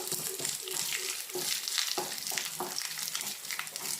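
Prawns and coconut pieces roasting in a pan with a steady, soft sizzle and occasional stirring scrapes, all at low volume and without pause.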